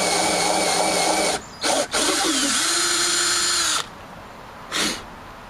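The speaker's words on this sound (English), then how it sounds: "We don't want to have the drill come out of control again" A power drill bores slowly into wood, its steady whine running loud for several seconds, pausing twice briefly, dropping into a lower grinding tone, then stopping before a short final burst.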